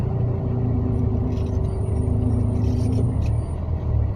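Dense road traffic on a crowded street with many motorbikes, a steady loud low rumble of engines passing close by with a brief hiss like an air brake, continuous throughout without talk.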